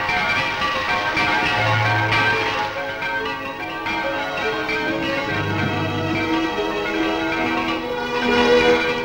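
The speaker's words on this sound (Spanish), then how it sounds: "La espadaña del santuario de la Virgen de la Cabeza llama con el sonido de sus campanas" Church bells of the Santuario de la Virgen de la Cabeza in Sierra Morena ring from the belfry in 1962, a sustained, resonant peal with overlapping tones, steady and fairly loud, on an old newsreel recording.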